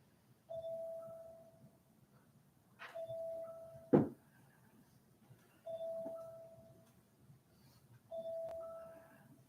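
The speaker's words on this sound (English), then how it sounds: "That's a mindfulness bell, inviting us to come back." A mindfulness bell rings out several times, each a clear, sustained tone that decays slowly, spaced a couple of seconds apart in a quiet room, with one sharp knock in between.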